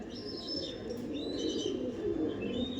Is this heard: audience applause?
no